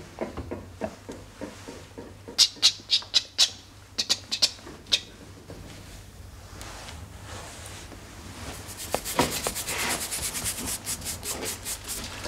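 An ancient stone at an archaeological site is scrubbed with a toothbrush, giving rapid dry rubbing strokes that come in bursts, sharper and louder in the middle and a denser, hissier scrubbing near the end, with no talk.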